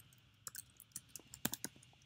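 Quiet typing on a computer keyboard, a short irregular run of soft clicks and key taps close by, with no talking.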